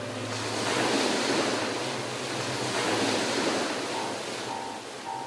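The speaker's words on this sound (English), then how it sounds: "he was caught in a mighty storm in his sea voyage" Storm at sea on a voyage to India: loud, continuous surf and crashing waves with steady wind roar throughout, no voices.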